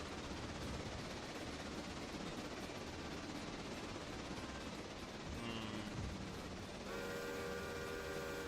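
A locomotive runs in the railroad video game Railroader, with a steady, loud rumble throughout. Brief clanks come near the middle, and a sustained tonal whine rises over the engine noise toward the end.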